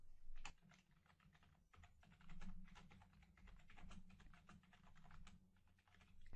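Quiet, fast typing on a computer keyboard while entering a value into SAP software, a steady run of light clicking keystrokes heard close and alone.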